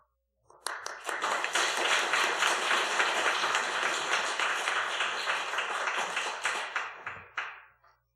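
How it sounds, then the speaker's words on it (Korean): A church congregation at a Sunday morning service applauds loudly to welcome a visiting preacher. Dense, sustained clapping from a large crowd rises quickly, holds evenly for about seven seconds, then trails off, with no talking over it. "나오실 때 우리 박수로 크게 환영하겠습니다"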